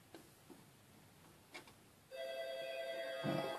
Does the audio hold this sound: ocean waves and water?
no